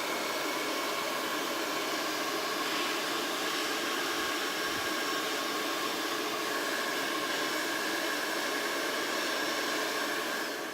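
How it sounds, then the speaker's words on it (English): A hair dryer on its cold setting blows onto a transfer for a home decor sign, a loud, steady whooshing roar of fan and airflow that runs unbroken from start to finish. "If you're going to dry your transfer, use a cold dryer."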